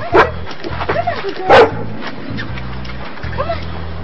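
Dogs bark at a canine training center, a few sharp barks and yips at moderate distance over a low steady background with a voice talking.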